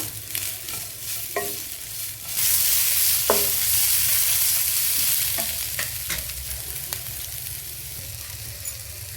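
Salted vegetables frying in a pan as filling for ragi roti rolls, a steady sizzle with repeated spoon scrapes and taps as they are stirred, the frying swelling louder midway before settling.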